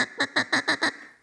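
A duck call imitates a hen mallard feeding on rice, giving six rapid, evenly spaced raspy quacks close and loud, then trailing off with no voices.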